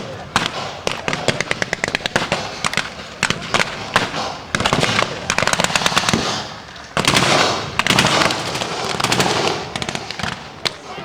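Blank gunfire crackles and blasts during a WW2 reenactment battle at a tank show, with rapid machine-gun bursts and single loud shots in dense, irregular volleys.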